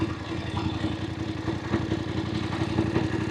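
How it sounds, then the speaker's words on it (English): A Voge 900DSX motorcycle engine turning over in second gear on the road, its throttle fueling searching, a steady mid-pitched rumble with a fine rhythmic pulse, close and fairly loud, with no talking. "I can hear the engine ticking over, but I can feel the fueling searching a little bit"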